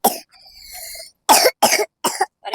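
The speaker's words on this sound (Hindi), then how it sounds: "अरे खांसी आ रही है" A woman coughs at home, a burst of several sharp, close coughs after a short stretch of quieter sound, loud and clear with no talk over them.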